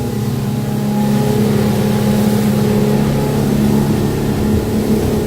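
A Duckworth 240 offshore motorboat accelerates hard onto plane, its engine holding a loud, strong, steady drone with rising harmonics and water rush close by, and no one talks.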